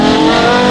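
A Porsche Carrera GT engine fitted with an Inconel F1-style exhaust lets out a loud, close, high-pitched rasping wail, one brief sustained burst with no voices over it.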